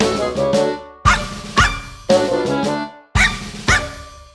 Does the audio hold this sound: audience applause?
no